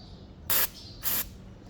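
Two short, sharp sprays hiss close by into a hole on a ski boat, separated by a brief pause, over quiet background noise.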